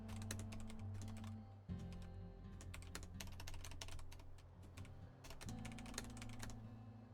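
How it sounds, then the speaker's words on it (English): Someone types fast on a typewriter-style computer keyboard, with rapid, crisp clicking keystrokes close to the mic in uneven bursts over a steady low background hum. "Yeah, the keyboard does make good sounds."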